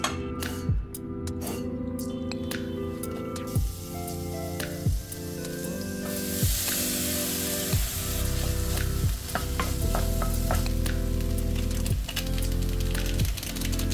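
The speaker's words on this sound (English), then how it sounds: "I just roasted all the vegetables along with some ginger garlic paste." Vegetables with ginger garlic paste sizzle steadily in a hot pan while a utensil stirs and scrapes them in repeated knocks, close up with no talking.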